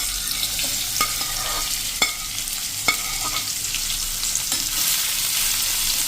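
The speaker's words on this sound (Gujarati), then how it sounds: "હવે આપણે જે આ ટીંડોળા સમાર્યા છે ને એ આપણે નાખી દેશું" Chopped tindora (ivy gourd) frying in oil over a slow-to-medium gas flame, a steady close sizzle broken by a few sharp scraping stirs of the spoon against the pan.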